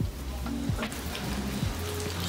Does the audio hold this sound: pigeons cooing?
no